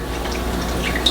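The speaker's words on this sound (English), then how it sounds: "She already washed her hand before, she's just gonna rinse it." Running tap water splashes steadily over hands being rinsed at a sink, a close, continuous wash lasting about a second.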